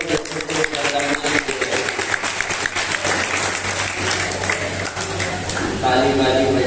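A crowd at a Hindi poetry gathering (kavi sammelan) in Hata applauds continuously in a dense, loud patter, and a voice briefly rises over the clapping near the end.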